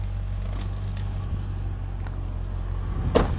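A Mercedes-Benz ML55 AMG SUV, parked in the sun and unable to move once in gear, idles with a low steady rumble, fairly quiet, with a few faint clicks and a small knock near the end.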